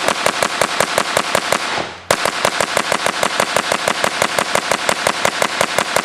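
Rapid, evenly spaced shots from a PS90 rifle crack loudly and close in two continuous bursts, with a brief pause between them.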